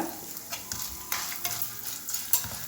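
Cashews fry in hot oil in a pan for tamarind rice, with a soft, steady sizzle under repeated close scrapes and stirs of a spoon against the pan.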